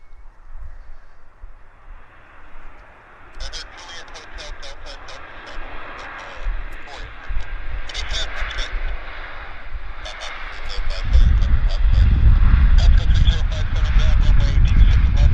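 An airliner lands at Vancouver Airport in calm wind, a distant jet roar that builds into a loud rumble as it nears. Rapid clicking chatter runs over the top and people talk throughout.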